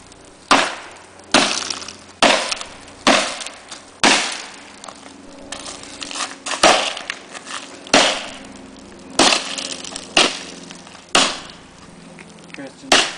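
Glass panes are struck and smashed repeatedly during a home demolition, about a dozen loud sharp crashes at uneven intervals, each followed by brief tinkling debris, close and prominent.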